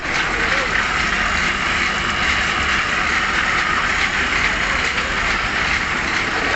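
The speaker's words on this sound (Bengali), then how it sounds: "একেবারে খাঁটি সরিষার তেল ফিল্টারিং চলছে" Machine filtering pure mustard oil runs with a steady, dense mechanical roar and rumble, loud and unbroken throughout, with no pauses.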